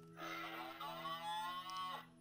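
A cow lets out a drawn-out, resonant moo lasting about two seconds, loud and close, with a faint steady hum behind it.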